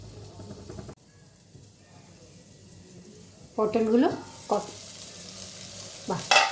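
Pointed gourd (potol) with salt and turmeric frying under a lid in a pan. A quiet steady sizzle is broken by brief stirring and clattering bursts near the end.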